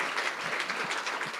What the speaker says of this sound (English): Applause for Dr. Burkman.